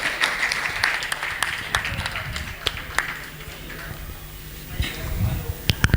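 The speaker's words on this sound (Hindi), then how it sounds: "थोड़ा ताली बजाइए आप लोग, आप सभी आप लोग ताली बजाइए भैया।" Applause from a crowd at a photographers' association anniversary celebration in Sasaram, Bihar, steady scattered clapping with some louder claps standing out, under a noisy background.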